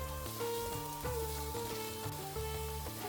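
Onions frying in a pan until soft and golden brown give off a steady, close sizzle that runs unbroken beneath tonal background music.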